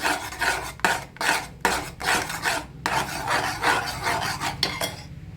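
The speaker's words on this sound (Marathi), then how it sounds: "सतत आपल्याला हे चमच्याने असं असं हलवत राहायचं" A spoon scrapes steadily around a pot of cream as it is cooked down into homemade ghee, giving loud, close rasping strokes in an even back-and-forth rhythm of about one per second, with no voices.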